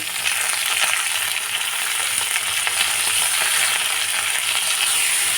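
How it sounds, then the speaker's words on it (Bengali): Vegetables fry with a loud steady sizzle in a pan while being stirred for shama dana polao, a continuous close hiss with soft scraping movements and no talking. "সবজিগুলো একটু নাড়াচাড়া করে ঢাকা দিয়ে দেব"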